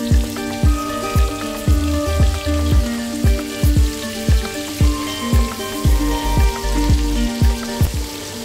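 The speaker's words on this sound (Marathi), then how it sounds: "हा जो फिश फ्राय करताना चुरचुर जो आवाज असतो ना" Rava-coated bangda mackerel fries in hot oil with a loud, steady sizzle. Sharp crackling pops and spatters repeat throughout, and no one speaks.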